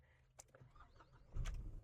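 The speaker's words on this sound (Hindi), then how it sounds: "स्टार्ट करते हैं, सबसे पहले जो डीजल इंजन की वाइब है, स्पेशली महिंद्रा" A Mahindra diesel car engine cranks and catches, settling into a steady low rumble near the mic after a few faint clicks and rustles.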